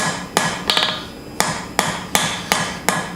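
Gentle hammer taps shaping the jaws of forged blacksmith tongs, a handful of close, bright metallic strikes at irregular spacing, one a quick triple, each ringing briefly before the next.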